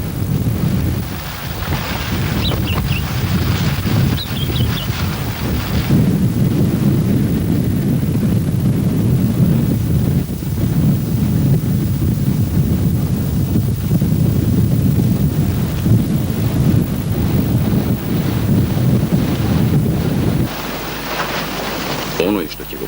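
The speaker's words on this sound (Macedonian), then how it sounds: "густ снег и ужасен ветер кој урла од длабочината на земјата" Fierce storm wind on Everest roaring in a loud, sustained buffeting rush across the microphone, easing slightly near the end, with a voice talking over it.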